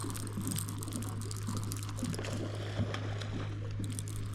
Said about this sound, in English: He's splashing all over.